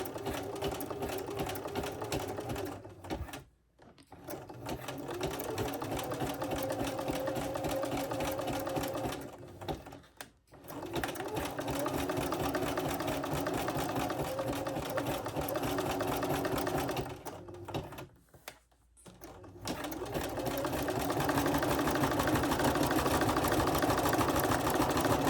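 A sewing machine runs steadily as it stitches sash cord into a rope bowl, a close, even mechanical hum broken by three short pauses before it resumes.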